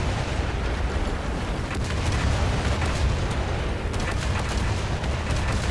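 A KV-2 tank cannon fires in War Thunder, with booming shots and explosions merging into a dense, loud, continuous rumbling barrage.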